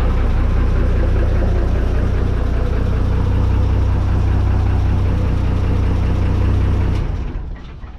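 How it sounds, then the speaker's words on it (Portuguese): Jet ski or motorboat engine idling smoothly, a steady, loud low rumble with even pulsing throughout, then cutting off and fading out near the end. "motor tá redondinho."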